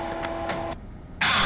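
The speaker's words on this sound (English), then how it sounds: "I couldn't hear it because loud-ass printer was doing its thing" Mechanical printer whirring and chattering in a Five Nights at Freddy's fan horror game, a steady buzzing drone with periodic pulses that briefly drops out, then resumes louder and brighter.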